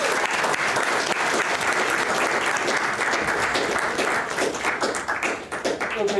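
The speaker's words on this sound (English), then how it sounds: "please give a warm round of applause to Mike Bietz." An audience at a debate event claps to welcome a speaker, giving a full, steady round of applause that holds strongly for several seconds before easing slightly near the end.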